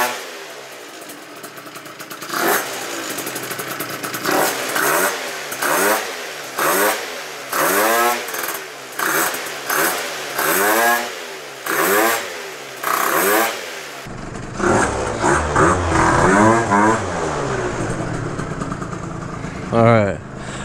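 A Phantom F12 scooter with a Stage6 clutch and CVT tuning revs repeatedly in a steady rise-and-fall pattern, close and loud, then runs on in a continuous rougher tone, with someone talking over it.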